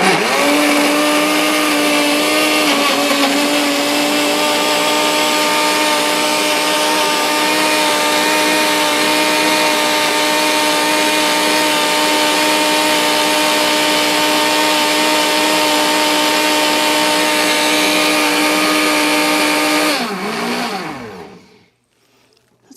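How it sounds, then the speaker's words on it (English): A blender runs loudly and steadily with a high-pitched motor whine for about twenty seconds, then winds down and stops. "My blender is very noisy."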